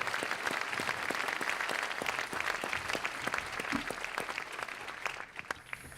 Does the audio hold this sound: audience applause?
yes